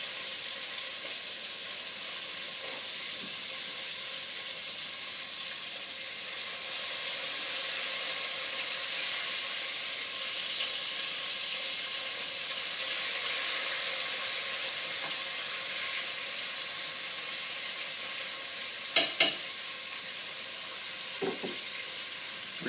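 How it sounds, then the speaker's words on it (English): Bacon frying in a pan, a steady, loud, close sizzle that crackles on without a break, with a couple of faint knocks near the end and no voices. "I've got bacon sitting in the pan right now. I'm going to let that come up to temp, cook."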